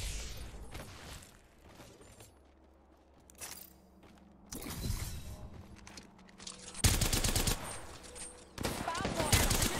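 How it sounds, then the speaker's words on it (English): Gunfire in Apex Legends gameplay, rapid automatic bursts and scattered shots with mechanical clatter, growing louder toward the end, with a player talking in between. "Opening fire on the enemy"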